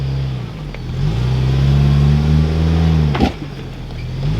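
Ford Bronco with a 4-cylinder engine climbing off-road, a steady close engine drone holding a level tone under load, with a brief knock near the end.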